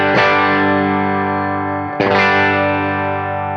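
Electric guitar on a lower-output bridge humbucker through a King of Tone style drive on a Line 6 Helix: two loud, sustained overdriven chords, each struck once and left ringing, with faint chorus and reverb.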